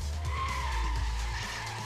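Car tires skid and squeal in the driving game Street Legal, a continuous screech over a loud, steady engine drone.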